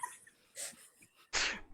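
A single short sneeze bursts out near the end, close and sharp after faint breathy sounds, in a quiet setting.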